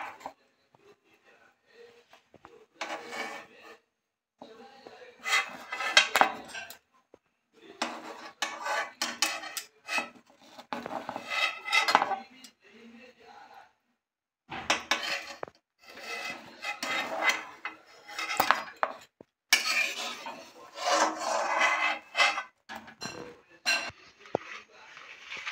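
Boiled lentil-filled rice pithas being lifted out of a cooking pot, with a run of scraping, clinking utensil-against-pot sounds in bursts separated by short pauses, close and fairly quiet.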